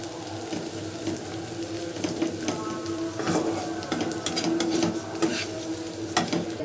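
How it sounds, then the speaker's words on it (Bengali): Garlic and onion frying in a pot are stirred at close range, with a moderate sizzle and recurring scrapes and clinks of the utensil against the pot, with no one speaking. "আমি এখানে 1 মিনিট থেকে 2 মিনিট পর নাড়াচাড়া করে ভালো করে রসুন আর পেঁয়াজটা ভালো করে নাড়াচাড়া করতে থাকবো"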